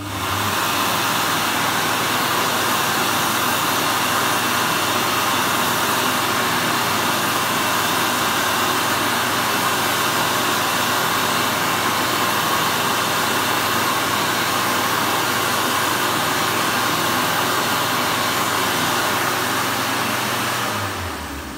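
A JD McDonald Water Beam 1000 hand dryer in Australia blowing steadily, a loud, close, constant roaring whoosh of air that holds level for about twenty seconds before cutting off at the end.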